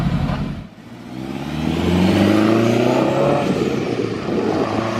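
A turbocharged K20 engine in a Honda Civic EK hatchback runs close by, revving up into a loud, sustained rising drone with a steady whirring roar.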